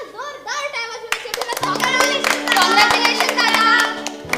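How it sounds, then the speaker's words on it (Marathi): An audience in a school hall claps warmly to congratulate a young scientist during a state-level science one-act play competition. A voice comes first, then brisk, loud clapping runs under overlapping voices. "एकदा जोरदार टाळ्या वाजवून"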